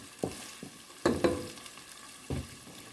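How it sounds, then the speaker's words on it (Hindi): Onions frying in a pan until light brown give a soft sizzle broken by a few scraping stirs and clanks of a spoon against the pan, close and fairly quiet, with no talking. "इनको बस लाइट ब्राउन करूंगी मैं"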